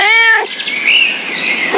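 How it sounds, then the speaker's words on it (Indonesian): A cat meows once, a short bright tonal cry that slides upward, then fades into a thin high hiss with faint chirpy traces and no talking. "Ada seekor kucing."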